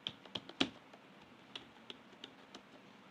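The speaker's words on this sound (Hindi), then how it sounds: "तो हमें इस तरीके से टाइपिंग करनी है।" Keys tapped one at a time at a slow, uneven pace during home-row typing practice on a computer keyboard, each stroke a sharp, faint click against a quiet room, with a few louder hits near the start.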